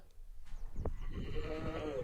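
A sheep gives a short bleat during lambing on a farm, heard faintly and close against a low murmur of background noise.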